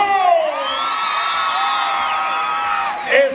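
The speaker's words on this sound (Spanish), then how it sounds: "¡El aplauso! ¡Están empatados!" Loud, sustained whooping and cheering from a crowd at a shouting contest, many voices holding high rising cries together, with a sharper yell bursting out near the end.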